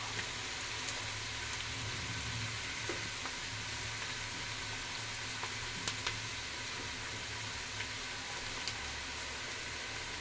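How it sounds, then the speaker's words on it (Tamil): Steady sizzling of onions frying in hot oil, a continuous crackling hiss with occasional louder pops, no talking. "இந்த வெங்காயம் நல்லா கோல்டன் ப்ரௌனாக ஆகணும், நல்லா வதங்கணும் இந்த வெங்காயம்."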